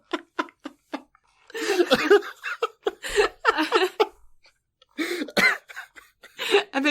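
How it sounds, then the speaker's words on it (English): A voice in the anime Dr. Stone gives a string of short, sharp coughs and hacking bursts as she coughs up blood, close and fairly loud, with brief pauses between bouts. "She's coughing up blood now."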